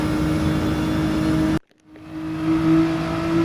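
A Nissan GT-R Gr.4 race car in Gran Turismo 7 drones at steady revs, cuts out abruptly for a gear change, then climbs again as it accelerates out of a corner, loud and close.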